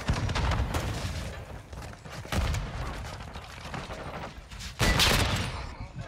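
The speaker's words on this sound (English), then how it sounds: "Somebody's shooting me in my riot shield." Gunfire from a Call of Duty: Modern Warfare II match strikes a riot shield in dense, overlapping bursts, with a heavy close volley near the end.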